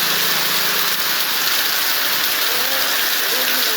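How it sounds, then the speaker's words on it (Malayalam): Heavy summer thunderstorm rain falls hard and close, a thick continuous roar of drops with no break and no clear thunderclap. "അതിൻ്റെ ഭാഗമായാണ് ഈ ഇടിവെട്ട് മഴ അനുഭവപ്പെടുന്നത്."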